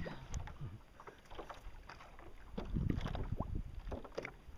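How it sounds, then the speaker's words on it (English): Wind and sea swell heard from aboard a small boat, faint gusty rushing with low water sloshes and knocks against the hull, no talk. "we got some swells today. We got some wind in our face"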